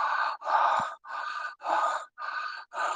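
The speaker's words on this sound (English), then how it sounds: "So it sounds like this if you inhale through the mouth and exhale through the" Deliberate breathing in and out through the mouth, a steady series of about six breathy rushes of air with short pauses between, close and fairly soft, with no talking.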